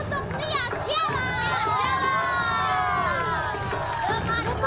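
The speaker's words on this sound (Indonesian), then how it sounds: "Tepuk tangan untuk Lia Syara." A live crowd at a JKT48 reaction show cheers loudly, with many high, excited voices shrieking and calling out over one another continuously and only faint clapping underneath.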